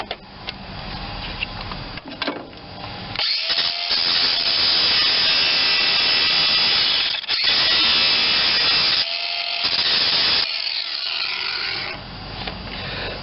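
Power drill boring out a larger hole in a broken bolt on a Vermeer BC625A machine, a loud sustained grinding whine in several long bursts separated by short pauses.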